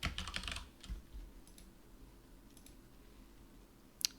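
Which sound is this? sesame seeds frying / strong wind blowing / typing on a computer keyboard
typing on a computer keyboard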